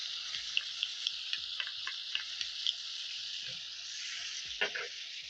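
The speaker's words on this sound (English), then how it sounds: "my chicken livers are searing and they're slightly pink on the inside because they're not yet fully cooked" Chicken livers and diced onion sear in a hot pan with a steady close sizzle, broken by soft clicks and scrapes of stirring.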